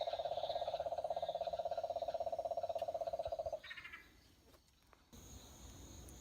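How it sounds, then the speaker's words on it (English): A small green sedge frog, Litoria fallax or bicolor, calls at night in Queensland with a loud, rapid pulsing trill for about three and a half seconds, then stops, leaving quieter background insects and night sounds. "In here we have a little green frog called a sedge frog."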